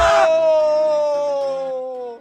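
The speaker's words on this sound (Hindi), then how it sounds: "लेकिन उनकी चीखें उस कोठरी में ही दब कर रह गईं।" A single drawn-out scream in a horror story, loud at first and slowly sliding lower in pitch as it fades over about two seconds, with no other sounds.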